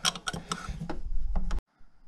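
A ratchet wrench loosening engine bolts during a timing belt, water pump and alternator job on a car, giving a short burst of rapid metallic clicks that stops abruptly, close and fairly loud.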